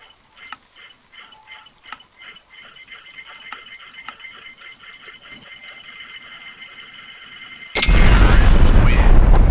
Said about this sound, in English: The bomb's about to go off